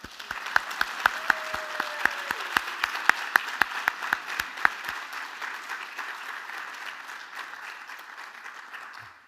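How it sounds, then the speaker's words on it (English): A lecture audience breaks into loud applause: dense clapping and sharp claps at the start that settle into a steady wash of hand-claps. The applause thins gradually toward the end. "now we're going to give her a huge round of applause for bringing us all together tonight"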